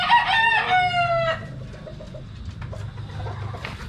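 A lemon brood stag lets out one loud, close crow in the first second and a half. Soft clucks and background farm noise follow.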